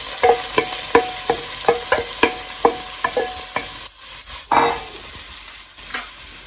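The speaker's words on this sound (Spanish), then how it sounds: "Y vamos a dejar aquí sofreír por 5 minutos." Potato, carrot and tomato sautéing in a pan while being stirred, a bright sizzle with a regular series of close spoon knocks and scrapes against the pan, then a louder surge of frying.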